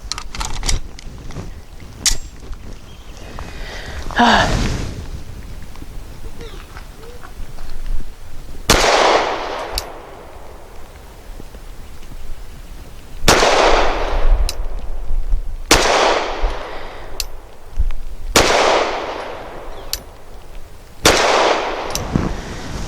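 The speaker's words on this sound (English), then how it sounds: "5 shots of the Nosler match grade, I will shoot at the right circle square" Five sharp 9mm pistol shots from a Gill Arms GPR 9M firing Nosler match-grade 115 grain rounds at a target from 7 yards, loud and spaced irregularly a few seconds apart, each with a brief ringing decay.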